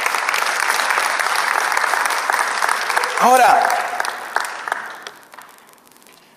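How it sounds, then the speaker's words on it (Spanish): A church congregation applauds steadily and fairly loudly, with a voice briefly cutting in partway through before the clapping tapers off to near silence. "¿Se atreve a darle un aplauso al Señor?"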